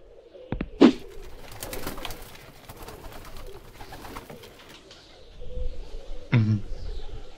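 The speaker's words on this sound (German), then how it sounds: "Diese Tauben sehen hungrig aus und sie sehen mich so komisch an." Pigeons cooing in the video game Randal's Monday, two short low coos a few seconds apart over a quiet ambient background.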